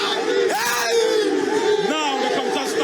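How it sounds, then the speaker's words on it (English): An auditorium crowd at a national science and maths quiz semifinal screams and shouts loudly as contestants are called on stage, with sustained cheering and rising whoops filling the hall. "you hear the scream, the loud shouts, and the thunderous applause from the auditorium"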